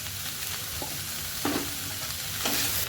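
Capsicum paste frying with spices and turmeric in a pan for restaurant-style chilli egg, a steady low sizzle with a few soft stirring scrapes, no voices.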